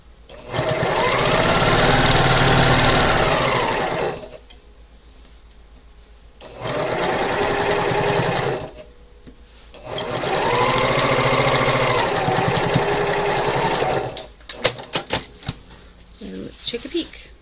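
A sewing machine stitches quilt seams in three sustained runs of fast, steady whirring, pausing between bursts, with light handling clicks and fabric rustle at the end.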